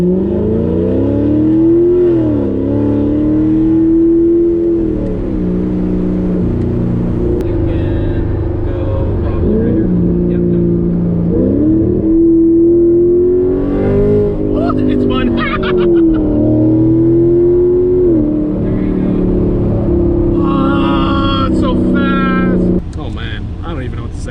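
A C7 Corvette Grand Sport V8 on a night drive, loud revs rising and dropping through repeated downshifts with crackling burbles between them, heard from inside the cabin.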